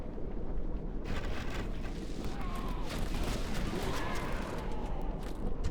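Troops fire volleys in a Total War battle from the Fourth Age mod. The result is a dense, continuous crackle of massed musketry and distant booms that rolls on without pause.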